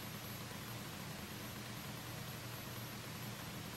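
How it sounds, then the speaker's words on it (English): A constant broadband hiss of white noise holds a flat, unchanging level throughout, with no other sound on top of it. "Just kidding, that's white noise."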